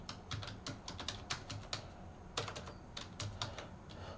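Fingers type steadily on a computer keyboard while filling in an online scholarship form, a close, even patter of key clicks with a few brief pauses, and no talking.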